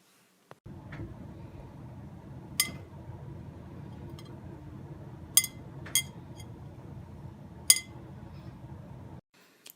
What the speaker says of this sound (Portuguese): Esse barulhinho que parece um vidro batendo é o ponto exato da calda.